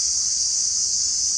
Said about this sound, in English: crickets are loud